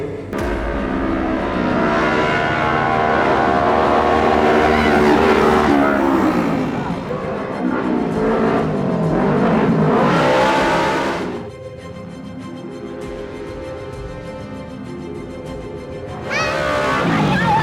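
A motorcycle engine revs loud and close, its pitch rising and falling in surges, then drops to a rough idle before climbing again near the end.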